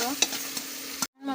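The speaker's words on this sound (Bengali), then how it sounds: "পেঁয়াজটা একটু লাল লাল করে ভাজা ভাজা করে নেব" Onions frying in oil in a wok, a close steady sizzle with a few scraping stirs, cut off abruptly near the end before a softer sizzle resumes briefly.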